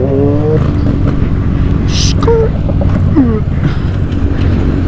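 A motorcycle engine idles and rumbles steadily close to the microphone, with wind buffeting and a few brief whistles and chirps over the low drone.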